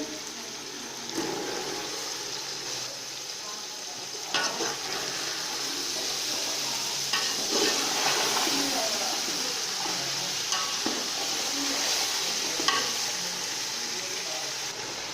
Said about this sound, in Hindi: दो मिनट हमने चने फ्राई कर लिए हैं।